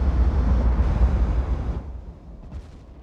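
Heavy naval gunfire from dreadnought-era warships in a naval battle game, loud rumbling booms that merge into a dense low roar, then die away into a quieter tail with a faint distant report near the end.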